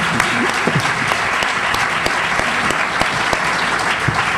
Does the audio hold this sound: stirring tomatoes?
no